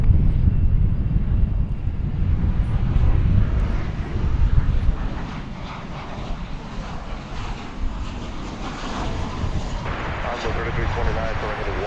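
A Boeing 737-800 airliner touching down on the runway at DFW Airport after a flight from San Jose, giving a steady, loud low rumble of engine and rolling noise that holds throughout, with faint talk underneath.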